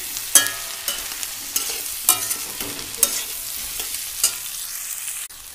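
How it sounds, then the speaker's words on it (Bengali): Greens and spices (salt, turmeric, a little chili powder) being sautéed in a pan, a soft steady sizzle broken by several sharp spoon scrapes and stirring knocks at irregular intervals, close and fairly quiet, with no talking. "পরিমাণ মতো নুন, হলুদ, একটু সামান্য লঙ্কার গুঁড়ো দিয়ে আমি কষিয়ে নিচ্ছি।"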